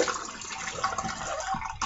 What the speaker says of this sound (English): Let me soak my Semogue's boar bristles really good in hot water.